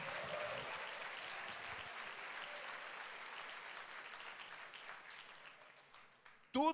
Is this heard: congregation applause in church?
yes